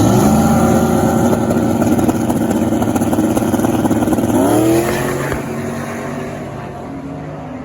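A no-prep drag race car roars down the strip at full throttle, its engine note climbing steadily before it shifts, then fading as it pulls away into the distance.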